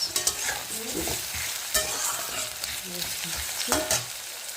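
Onions frying in a pan for egg curry, with a steady broadband sizzle and several sharp scraping knocks of a spatula stirring near the mic, no talking.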